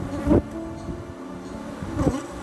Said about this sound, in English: as not to disturb those bees too much